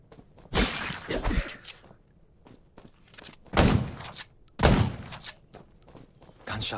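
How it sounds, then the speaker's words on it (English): Gunfire in the Undawn zombie survival game comes as several loud, close bursts of shots separated by quieter stretches with scattered thuds and steps. "Gunshots will attract more zombies."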